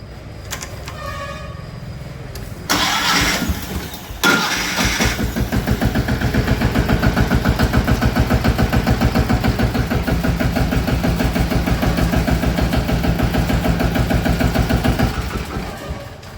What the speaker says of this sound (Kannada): ಇದನ್ನ ಸ್ವಲ್ಪ ಲಿಫ್ಟ್ ಮಾಡೋಣ ಟ್ರ್ಯಾಕ್ಟರ್ ಸ್ಟಾರ್ಟ್ ಮಾಡಿ